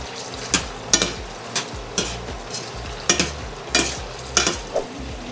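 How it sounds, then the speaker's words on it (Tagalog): Hotdog pieces sizzle steadily in a frying pan while a utensil stirs and scrapes against the metal in repeated sharp strokes, close and loud, with no talking. "Pagkatapos noon, prituhin nyo na din tong hotdog."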